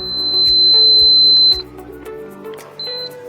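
A few sharp electronic beeps from a Topcon RL-H5A laser level ring out, one long tone followed by shorter ones, over a low mechanical hum that cuts out partway.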